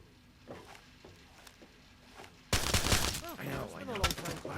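Gunfire in Fallout 3 erupts suddenly after quieter game sounds, a loud close burst of shots with ringing, clattering tails and further sharp reports.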